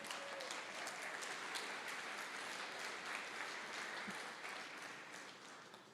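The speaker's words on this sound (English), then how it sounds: "So let's, round of applause for Greentown." Audience applause at an evening community gathering, a dense, steady wash of many hands clapping together that holds evenly throughout and fades only slightly at the end.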